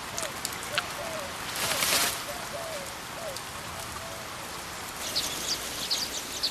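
Monsoon rain falls at Jawai in Rajasthan's rocky leopard country, a steady soft hiss of drops on surfaces with scattered bird calls and a narrating voice over it.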